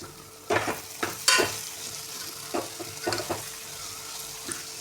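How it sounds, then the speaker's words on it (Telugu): Chana dal curry sizzling in a pan as it is stirred, with a few distinct scraping strokes and bursts of frying over a steady low hiss, close and moderately loud. "ఇప్పుడు ఒకసారి మొత్తం కలిపేసుకుందాం"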